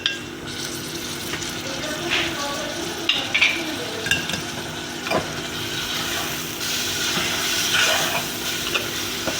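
Whole spices, garlic and ginger are tipped into translucent onions in a pan for bhuna gosht. A steady, close sizzle carries occasional stirring scrapes and clinks.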